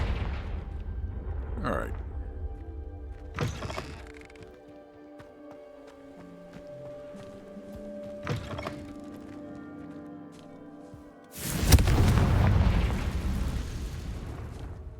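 Confringo spell blasts go off in the game Hogwarts Legacy. Several booming explosions come at intervals, the last one loudest and longest, over soft game music, and a voice speaks briefly.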